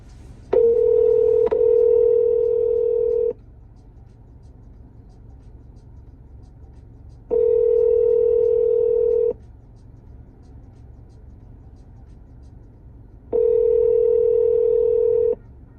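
Three long, steady telephone tones sound from a handset on an outgoing call that ends in voicemail, each lasting about two to three seconds and separated by several seconds of quiet line hiss.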